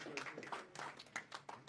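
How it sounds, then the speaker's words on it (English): Audience applause at a London wealth and real estate summit, a patter of scattered claps and taps that stays fairly faint throughout the short stretch. "Please let us welcome him with a round of applause."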